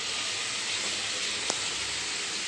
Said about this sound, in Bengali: মাছটা দিয়ে কষাই নিচ্ছি